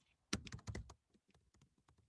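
Keys clatter on a computer keyboard as a caption is typed: a quick dense burst of clicks, then sparser, softer taps spaced apart, close up with no voices.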